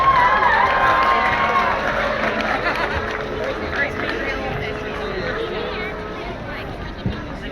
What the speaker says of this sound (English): A big cheer for the King of the Celts for beating the Gladiator.